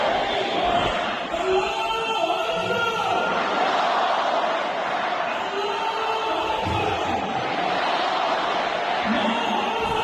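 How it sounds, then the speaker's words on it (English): A large crowd celebrates in Enghelab Square in Iran, a dense, continuous roar of many voices with chanting and shouts, steady and loud throughout. "crowds gathered at Engelhab Square to celebrate the announcement of Mujtaba Khamenei, the new supreme leader of Iran"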